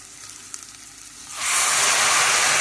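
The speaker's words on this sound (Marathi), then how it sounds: "आता 4-5 मिरे आणि 2 लवंगा आणि दालचिनीचे तुकडे आता घातले." Peppercorns, cloves and cinnamon pieces hit hot oil in a pan for a methi matar millet pulao, a quiet lead-in suddenly bursting into a loud, sustained close sizzle.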